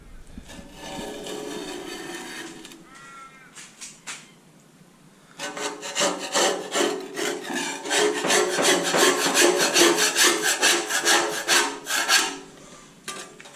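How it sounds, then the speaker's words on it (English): A hand scraper rasps material off a Toyota Hilux cab in close, loud, rhythmic strokes, a softer scraping passage first, then a brief pause and a long run of fast, harsh repeated scrapes. "we'll grab a scraper in a minute and start scraping and see how easy it is, or not easy it is, to take it off"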